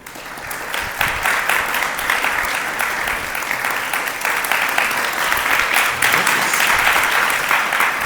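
Loud, sustained applause from an audience at a devotional kirtan talk, thick continuous clapping with occasional sharper claps standing out, holding steady throughout.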